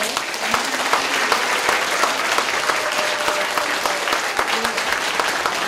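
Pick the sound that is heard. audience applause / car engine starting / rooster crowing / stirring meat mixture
audience applause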